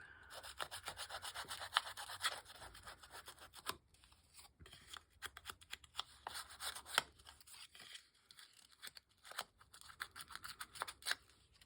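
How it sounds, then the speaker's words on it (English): A junk paper envelope is crumpled vigorously by hand, giving close, continuous crinkling and crackling with sharp rustling bursts throughout and no voices. "I'm going to be pretty vigorous with this so that I'm kind of crumpling it up"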